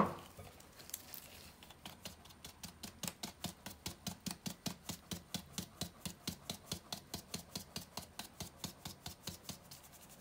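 A sieve of flour for chocolate coconut biscuits is tapped in a steady, quick rhythm of soft, evenly spaced pats, continuing close and fairly quiet with no talk.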